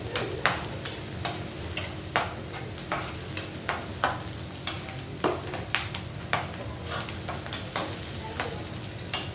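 Onion, green chili and tomato sizzle and fry in a pan, with a steady crackle and repeated sharp scrapes of a spatula stirring in a regular rhythm.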